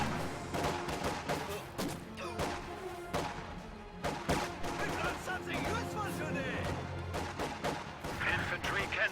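Rifle volleys and scattered gunfire crack and thud repeatedly through a busy World War battle in a strategy video game, dense and overlapping, with explosions mixed in and a voice talking over the action.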